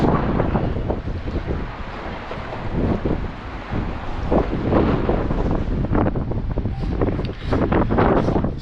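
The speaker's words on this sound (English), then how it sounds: "So the wind is back." Strong wind gusts roar across the microphone above a choppy sea off the Croatian islands, with waves washing underneath. The sound is steady, loud and continuous, with no talk.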